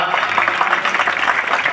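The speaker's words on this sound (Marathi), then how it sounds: "त्यांच्यासाठी सर्वांनी टाळ्या वाजवायच्या" A crowd at a Hanuman temple restoration and consecration ceremony in Jaygaon claps in a dense, steady burst of applause that fills the short moment.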